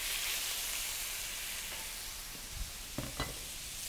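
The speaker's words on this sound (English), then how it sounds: "we're going to take the beef and slide it into the hot pan" Beef hitting a hot oiled pan sets off a steady, close sizzle that runs throughout, with a few brief clacks near the end as the pieces are moved about.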